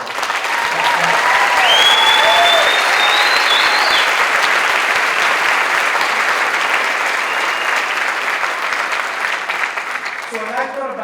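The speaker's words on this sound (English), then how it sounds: "you ought to give her a big round of applause" A large crowd at a 2014 Wheelock College graduation ceremony applauds the college leader, loud sustained clapping that fills the hall for about ten seconds before tapering.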